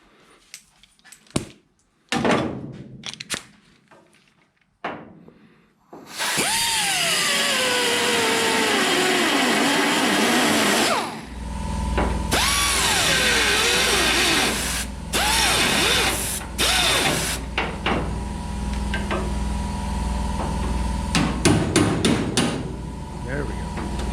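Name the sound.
pneumatic air tool working on engine bolts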